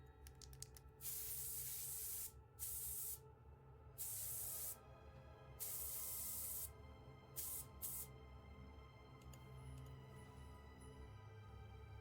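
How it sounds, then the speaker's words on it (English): Spray bottle or can spraying in repeated bursts of hiss, about six separate sprays of varying length with short gaps, close and fairly loud, no talking. "And then we spray."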